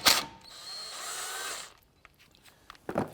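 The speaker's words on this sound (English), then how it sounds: "We're going to use a T30 Torx bit and remove it." A power tool spinning a T30 Torx bit out of a screw on a Cadillac Escalade front wheel hub: a close, high whirring burst of about a second and a half, followed by faint clicks and metallic handling.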